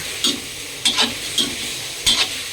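Pork neck stir-frying in a pan for a banana-stem curry, a steady close sizzle broken by four sharp scraping clacks of the spatula.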